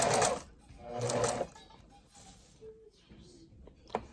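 A sewing machine back stitches a ribbon tutu in two short, quick, rattling bursts close by, followed by quieter handling sounds and soft clicks.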